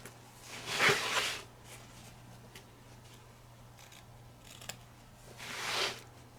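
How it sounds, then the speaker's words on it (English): Scissors trim border fabric away from the bottom of a machine-embroidered piece after the hoop is removed, giving two soft snipping bursts a few seconds apart, close and quiet, with faint clicks between. "You want to remove the hoop and trim the border fabric from the bottom only."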